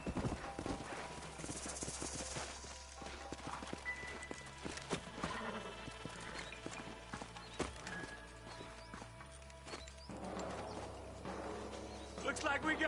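Horse hooves clip-clop in an uneven patter in the video game Red Dead Redemption, mixed with faint game sounds and background noise, moderately loud and close.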